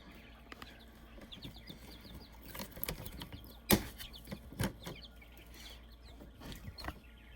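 Chickens on a small farm, project birds in a yard, with scattered clucks and short calls plus a few sharp louder squawks and rustling, fairly close and moderately quiet with no talking.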